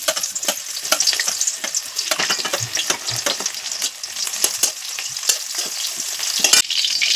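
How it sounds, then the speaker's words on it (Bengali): Onions hit hot oil in a pan on a home stove, giving a loud, close, continuous crackling sizzle with dense spitting pops and occasional stirring scrapes throughout, and no speech. "এখন তেল গরম হয়ে গেছে, দেখো এখন পেঁয়াজগুলো দেবো আর কি।"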